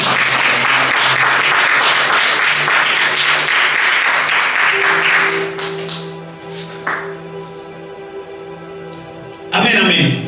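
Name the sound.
congregation applauding in church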